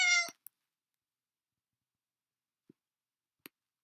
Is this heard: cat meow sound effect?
yes